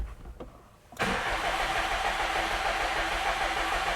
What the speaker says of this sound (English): We'll give it one last spin over without the crank sensor in to make sure we got all the oil pressure.